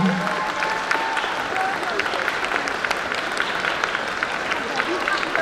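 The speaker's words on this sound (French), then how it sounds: "peut se présenter sur scène sous un tonnerre d'applaudissements" A convention audience claps steadily and fairly loudly throughout, a continuous patter of many hands, with stamping feet.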